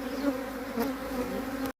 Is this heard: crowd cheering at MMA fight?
no